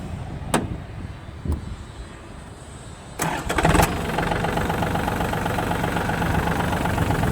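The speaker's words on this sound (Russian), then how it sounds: "Давайте запускать наш трактор." A mini tractor's small engine cranks briefly, then catches and settles into a steady, even idle rumble, close by.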